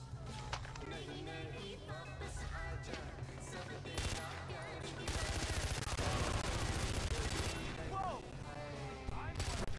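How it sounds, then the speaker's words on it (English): In Far Cry 4, a jeep-mounted machine gun fires long, dense automatic bursts, loud and close, over the rumble of the moving vehicle, with a voice shouting in between the volleys. "There's a gun underneath the dashboard."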